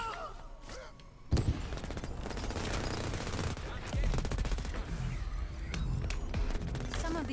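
Video game Crackdown gunfire, with a sharp blast followed by rapid, sustained automatic shooting and clattering debris over a busy, layered background.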